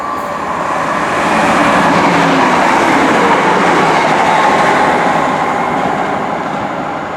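A Pacer diesel train rolls past close by in Greater Manchester, a steady loud rumble with rattling wheels that swells in the middle and eases off toward the end, with no voices.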